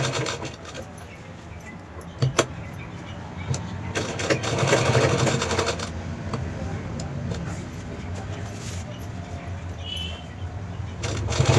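A sewing machine runs steadily while stitching along the edges of a cloth 3D travel bag, a continuous motor whir with brief louder bursts, heard under a voice talking throughout.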